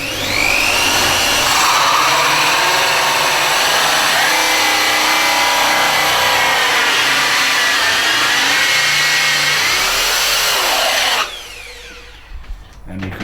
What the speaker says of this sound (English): you can see quite clearly that we've drilled a hole straight the way through there